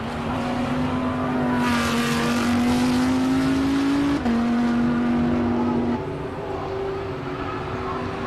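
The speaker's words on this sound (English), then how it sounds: "Let's just listen to this Lamborghini." A Lamborghini Huracan Performante Super Trofeo race car at a hill climb, its engine roaring loud and steady with a rising note, a brief dip at a gear change, then continuing to pull hard.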